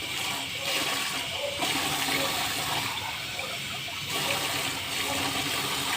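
Water gushes steadily, like a pour or a rush from a tap, filling the whole stretch with a broadband wash while preparations are made to roast barako coffee.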